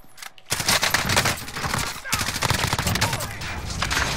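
Sustained automatic gunfire in Call of Duty Warzone, loud and close, with rapid continuous bursts after a short quiet start and a brief gap near the middle, and a voice speaking partly underneath.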